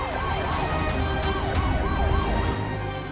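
Steady wailing ambulance siren sweeping up and down in regular cycles, loud and close, with low engine rumble underneath.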